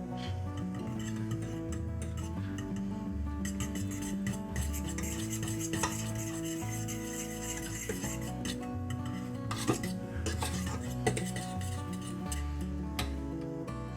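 Cheese is stirred into a casserole sauce of broccoli, ham and rice, giving a continuous soft scraping and swirling of a spoon against the pan that runs steadily throughout, with a steady tonal backdrop underneath.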